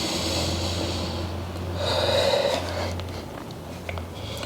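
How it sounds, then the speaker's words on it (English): A deep breath drawn in during a shoulder flexion mobility workout, a long steady airy inhale close to the microphone, fairly loud and with no talk over it. "Deep breath in."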